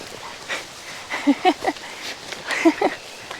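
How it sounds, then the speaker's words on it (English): Several dogs, including a pair that always wrestle hard, romp roughly together indoors, with short bursts of panting, huffs and playful yips rising and falling in quick clusters at close range over a low background. "I always get nervous when the dogs play like that"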